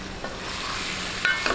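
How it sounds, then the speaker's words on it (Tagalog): Pork cubes fry in a pan with fish sauce, a steady close sizzle with light stirring scrapes. "Lagay po natin tong ating pork cubes para po maging mas malasa."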